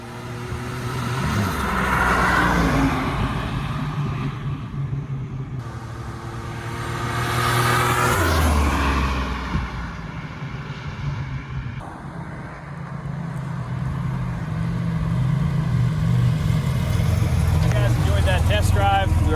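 A 1987 Buick T-Type accelerates hard on a test drive with traction trouble, its engine rising and falling in loud surges close by as people talk over it.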